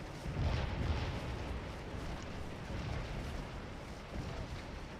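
Cannon and artillery fire in the Scourge of War battle game, a steady rumble of low booms and blasts rolling on without pause, loud and dense across the whole stretch.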